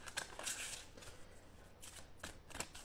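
Tarot cards are shuffled by hand in several quick riffling bursts, close and fairly quiet, with short pauses between them.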